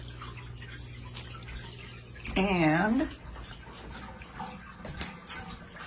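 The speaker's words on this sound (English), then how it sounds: "it sucks the water out of the tank and down the tube" Water drains out of an aquarium through a homemade siphon tube with a low, steady trickling and rushing. It runs quietly in the background while someone speaks briefly partway through.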